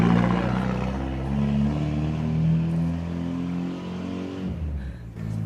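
A car engine revs hard and holds a loud, steady harmonic drone, the pitch wavering slightly before easing off near the end.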